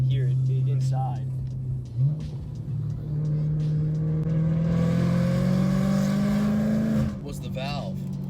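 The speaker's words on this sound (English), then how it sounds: "with this exhaust as well. I mean, you can even hear it inside." Inside a BMW M3, the exhaust hums as a low, steady drone that climbs gradually in pitch as the car accelerates, with people talking over it at the start and end.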